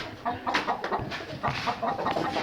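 Free-roaming chickens cluck in soft, irregular bursts close by, set against a busy outdoor background murmur.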